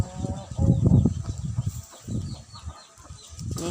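Hens cluck and chatter close by at feeding time, a busy run of overlapping low calls with soft rustling around them.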